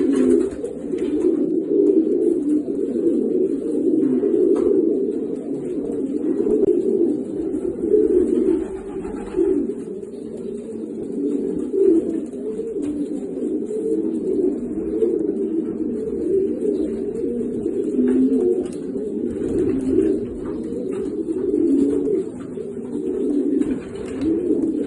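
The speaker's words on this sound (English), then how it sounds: "I wanted to show the Milovich pigeons getting ready for a Barcelona race" Racing pigeons in a loft before a Barcelona race coo steadily in a dense, continuous chorus of low murmuring calls, close by and without pause throughout.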